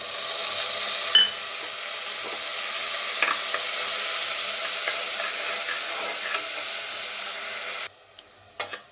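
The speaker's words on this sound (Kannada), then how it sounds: "ಇದನ್ನು ಹಾಕ್ಕೊಂಡು ಸ್ವಲ್ಪ ಹಸಿ ಸ್ಮೆಲ್ ಹೋಗೋವರೆಗೂ ಬಾಡಿಸ್ಕೋಬೇಕಷ್ಟೆ" Ground chili, garlic, ginger and mint paste fries in a pan with a steady, bright sizzle that holds for about eight seconds, broken by a few faint stirring scrapes, then stops abruptly near the end.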